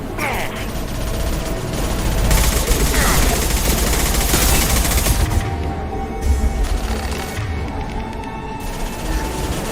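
Video game gunfire fills the scene with dense, overlapping bursts of rapid shots and mechanical clatter. The volley stays loud and close throughout.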